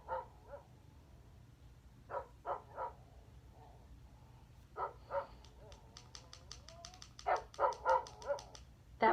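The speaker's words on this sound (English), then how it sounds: "That was my Siberian Husky." Recorded Siberian Husky barks and yips played back from an Amazon Echo smart speaker, coming in short clusters of two to four sharp barks separated by quiet gaps, with a faint whimper and some high chirping sounds partway through.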